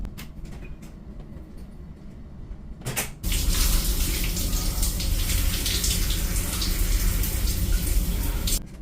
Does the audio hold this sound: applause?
no